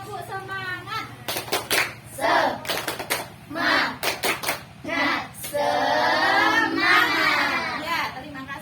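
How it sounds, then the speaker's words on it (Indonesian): A classroom of children at an Indonesian Islamic primary school performs a rhythmic spirit clap: patterned bursts of sharp hand claps alternate with chanted group voices, close and fairly loud. "Yuk, tepuk semangat."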